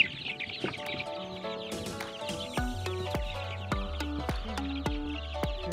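Hens cluck and squawk in short bursts among sharp knocks and clatter, a busy farmyard close by with no talking.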